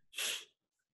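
One short, breathy sneeze, close and sudden, then near silence.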